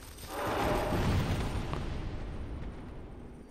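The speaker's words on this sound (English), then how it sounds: "Oh no, it's the exploding guys." Exploding enemies blow up in Dark Souls 2 with a single loud, rumbling blast that swells within half a second and then decays slowly over the next three seconds.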